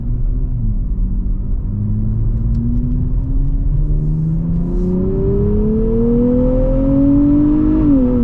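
A 2023 Nissan Z engine pulls steadily under acceleration on a night drive, its loud, close rumble climbing smoothly in pitch over several seconds before easing off near the end, with no talking.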